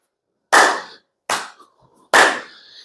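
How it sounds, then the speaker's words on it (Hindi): Three sharp hand claps ring out alone in a quiet room during a knee-raise exercise, each clap struck beneath a lifted knee, with short pauses between them and a faint rustle after the second. "घुटनों की एक्सरसाइज भी हो रही है और ताली भी बज रही है।"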